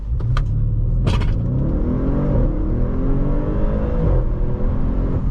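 A 2017 Audi RS7 with a 4.0-litre turbo engine accelerating hard from inside the cabin, its loud rising roar climbing through a few gears with quick shift breaks and a steady rumble underneath.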